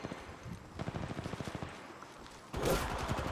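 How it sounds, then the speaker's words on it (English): Rapid automatic gunfire in Apex Legends Mobile crackles in a fast burst, then a sudden loud, harsh blast of noise cuts in near the end. "Opening fire."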